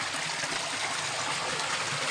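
A small river stream rushes steadily with a constant broadband wash of flowing water, continuous and fairly near, with no voices.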